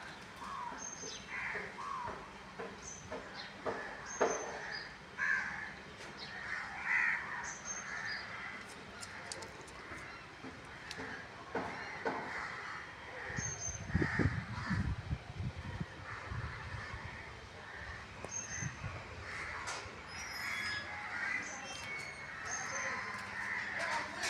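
Small birds, sparrows, chirp outdoors near a mango tree, with thin repeated calls scattered over a steady background and harsher crow-like caws mixed in.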